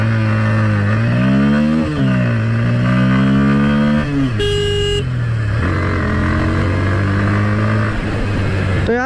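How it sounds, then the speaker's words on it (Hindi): A Bajaj Pulsar N160 motorcycle idles with a steady, loud, close exhaust note, its engine rising in brief revs, with a short horn toot in the middle. "सबसे पहले मैं चालू करके बता देता हूँ आपको, एग्जॉस्ट नोट सुना देता हूँ।"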